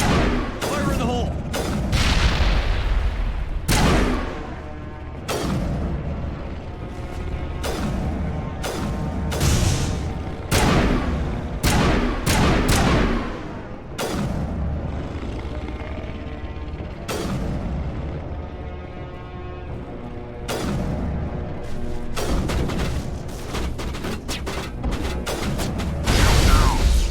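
Heavy grenade explosions and sustained gunfire in the Mass Effect video game, loud repeated blasts and bursts throughout a long chaotic firefight, with occasional voices talking beneath the din.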